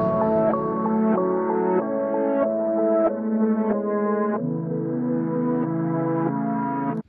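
A synth keyboard section slowed to half tempo and pitched an octave down plays a slow, deep sequence of sustained, warm chords and notes that runs continuously and evenly, with no voices.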